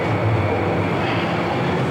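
Late-night subway train riding in Toronto, a loud, constant rumble and rattle of the railcar in motion, heard from inside the car without talk.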